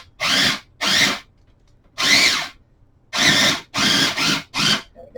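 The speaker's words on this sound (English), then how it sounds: "It's a powerful little mini chop." A small electric mini chopper blitzes cookie ingredients in seven loud, close bursts, each roughly half a second to a second long, separated by short silent pauses, with no talking.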